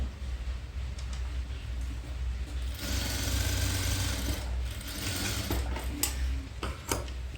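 A sewing machine stitching a frill on a long dress runs in a steady mechanical whir, louder after a few seconds, with a few sharp clicks near the end.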